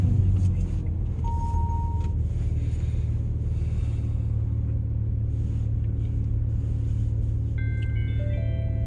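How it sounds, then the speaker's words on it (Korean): Continuous low rumble of car tyres and engine on the road while driving between Wonju and Seoul, loud and steady for the whole stretch with a few faint tones near the end. "이게 차 소리가 도로에 자꾸 소리가 나서 영 신경이 거슬리게 하네요."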